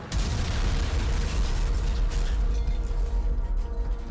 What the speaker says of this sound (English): This time, the explosion was massive.